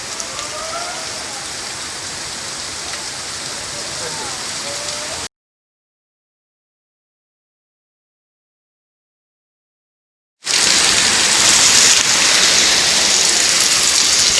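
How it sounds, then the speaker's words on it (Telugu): Heavy water pouring like rain near the Jwala Narasimha Swamy temple at Ahobilam in the Nallamala forest, steady and loud, cut by a stretch of silence before returning even stronger. "పడుతున్నాయి నీళ్ళు"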